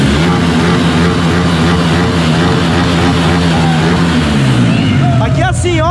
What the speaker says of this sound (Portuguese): Acabou de montar o motor. O que que nós faz? Acelera com força.